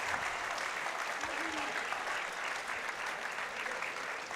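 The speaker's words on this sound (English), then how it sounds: "And the crowd give him a big cheer." A crowd at a European equipped powerlifting championship in the heavyweight 120+ kg class applauds and cheers for a lifter, a steady dense wash of clapping heard from some distance.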